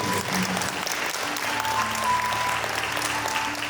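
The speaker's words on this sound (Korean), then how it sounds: "뜨거운 박수를 부탁드리겠습니다" Steady crowd applause at a wedding hall ceremony fills the whole stretch, dense and continuous, with faint tonal background sounds running underneath.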